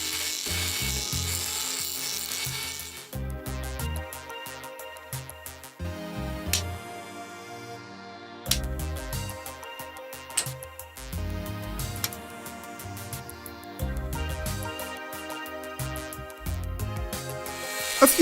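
A rotary cut-off wheel cutting the plastic shroud of an ASUS GTX 650 graphics card, heard as repeated whining passes with gaps between them, each a harsh grinding buzz mixed with a tonal whine that rises and falls.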